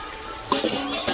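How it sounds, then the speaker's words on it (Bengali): A lid comes off a cooking pot of boiled gourd and potatoes with a quick metallic clank followed by a light rattle and clatter, close and brief. "বন্ধুরা আমি এবার এই ঢাকনাটা খুলে নিচ্ছি"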